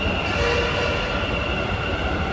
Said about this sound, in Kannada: ಮೆಟ್ರೋ ಒಂದು ಜಸ್ಟ್ ಮಿಸ್ ಆಯಿತು ಮೆಟ್ರೋ